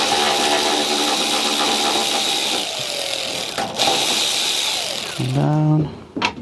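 A ratchet working on the headlight mounting bolts of a 2010 Ford Focus, with steady mechanical whirring followed near the end by a short run of quick ratcheting clicks, close and fairly loud.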